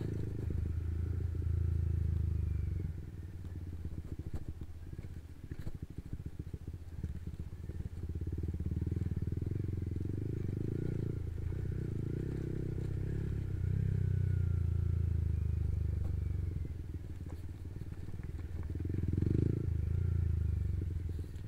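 A big motorcycle rumbles steadily over a badly damaged, rough road on the way to Watu Nggong, its low engine drone rising and falling with the bumps and occasional clatter, close and continuous with no talking.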